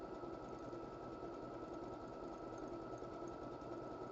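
A sewing machine runs fast and continuously while stitching a decorative pattern, giving a steady, even whirring rattle at a fairly quiet level with no speech over it.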